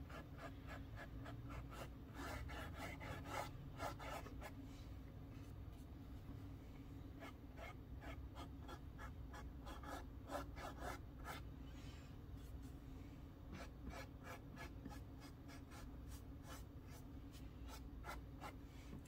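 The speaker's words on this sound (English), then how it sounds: "I love that sound of a paintbrush like kind of scraping on the canvas" A paintbrush scrapes across canvas in quiet, close, repeated scratchy strokes that keep an uneven rhythm over a soft background hum.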